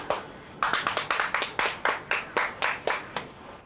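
Audience clapping on a Hindi TV comedy set, a dozen or so crisp, evenly spaced claps in a quick steady rhythm, close and clear with no talk over them.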